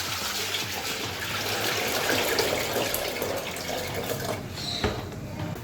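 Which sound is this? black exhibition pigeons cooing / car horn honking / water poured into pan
water poured into pan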